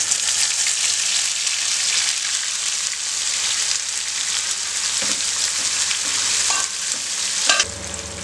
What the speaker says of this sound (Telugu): ఇందులో ఇప్పుడు మనం రుబ్బి పెట్టుకున్న గ్రేవీ అనేది వేసేసుకుందాం.